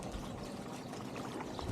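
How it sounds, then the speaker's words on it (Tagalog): Water spilling steadily over the edge of an infinity pool at a resort in Baliwag, Bulacan, a continuous soft pouring and trickling wash that stays even and fairly close throughout. "Ayan kasi natatapon yung tubig."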